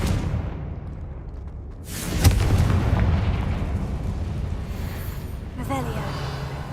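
The Confringo fire spell in Hogwarts Legacy bursts with a sudden booming explosion, followed by a crackling, rumbling tail that trails off under continuing game ambience.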